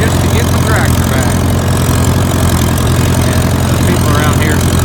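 A tractor engine idles in a steady, loud, unbroken drone throughout, with faint voice sounds now and then over it.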